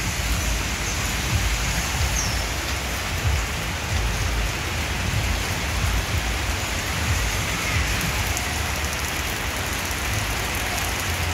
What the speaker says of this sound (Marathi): पाऊस ना परत वाढलाय